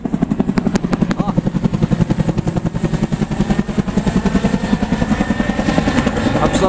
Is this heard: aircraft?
yes